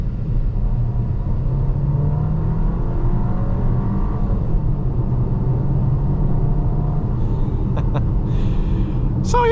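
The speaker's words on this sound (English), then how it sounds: "just hit the throttle, see how fast we can get up to speed" A 2025 VW Tiguan SE R-Line Black pulls hard from about 25 mph, giving a steady, loud engine drone with road and cabin noise heard from inside the car, holding at an even level throughout.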